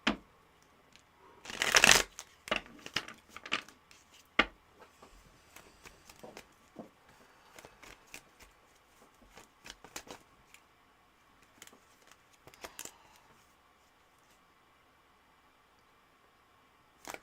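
A deck of playing cards is riffled and shuffled close up, with a loud burst of flicking early on followed by many lighter taps and rustles that thin out toward the end.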